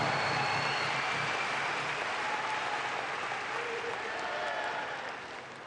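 Applause from a large audience at a community event held in New York fills the whole clip as a dense, steady wash that stays loud and slowly fades near the end.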